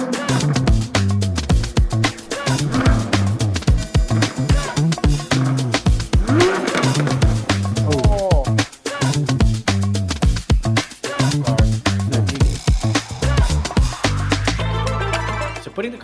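A Mini-Z RC car with a Jaguar LM body races around a track, its small electric motor whining and rising as it accelerates, with tires squealing through corners. The sound is close, loud and continuous for the whole stretch.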